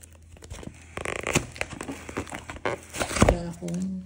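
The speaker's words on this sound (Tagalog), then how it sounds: "Mahirap buksan at nakapackaging tape." A package sealed with packaging tape being torn open by hand, with crinkling plastic and ripping tape in irregular bursts, loud and close, while a person talks.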